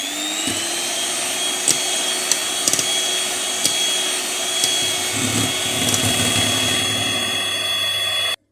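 An electric mixer whirs steadily, beating a mixture of sugar with lemon zest and lemon juice, with a constant high mechanical whine and a few faint clicks of the beaters against the bowl, no talking.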